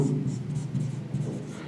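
An equation being written by hand on a surface, a faint, close scratching of pen strokes in short repeated bursts, with speech-like murmur in the background.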